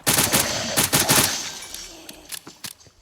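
An AM19 gun fires in modded Minecraft with a loud rapid burst of close shots at the start, then trails off into a few sparser, fainter pops.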